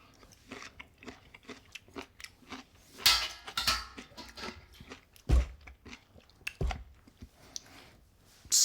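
Close, crunchy bites and wet chewing of a pickled giant jalapeño, with several loud crisp crunches in the middle and quieter steady mastication throughout, no talking.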